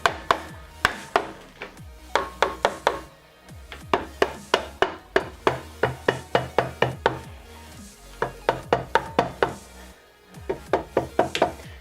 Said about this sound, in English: this is where your rubber mallet's going to come in handy. You're just going to kind of try to tap it free.